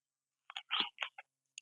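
Crisp muscat grapes being bitten and chewed close up, a short cluster of sharp crunches and wet clicks in an otherwise quiet space.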